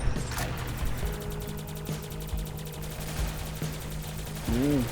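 Video game X-SHOT shooting against mummies and a giant pharaoh boss, a fast steady stream of rapid gunfire pulses with a low droning hum underneath and a brief warbling effect at the end.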